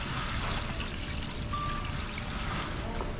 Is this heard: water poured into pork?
yes